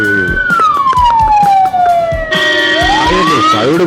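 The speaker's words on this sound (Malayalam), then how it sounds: "ആംബുലൻസ്" A loud, close wailing siren on an emergency vehicle, sweeping down slowly and then rising again, with beeping horn bursts and engine rumble from road traffic underneath.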